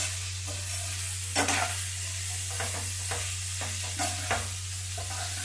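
Bottle gourd pieces frying in oil in a pan for a North Karnataka palya, with a steady low sizzle and repeated scraping strokes of a spatula stirring through the vegetable, close and clear, no talking.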